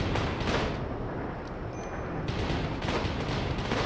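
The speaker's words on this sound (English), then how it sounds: "Time for some serious gunplay, guys." Sustained gunfire from the Rimworld video game as colonists fight off a horde of zombies, a dense, continuous rattle of overlapping shots filling the whole stretch at steady loudness with no pauses.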